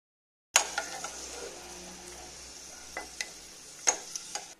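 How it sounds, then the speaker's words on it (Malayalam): Raisins frying in ghee in a pan give a steady close sizzle, punctuated by a few sharp clicks and scrapes of stirring, with no talking. "ഇനി ഇതിൻ്റെ അകത്തോട്ട് നമുക്ക് മുന്തിരിങ്ങ ഇടാം. ഇതും ഒന്ന് വറുത്ത് കോരി മാറ്റി വെക്കണം."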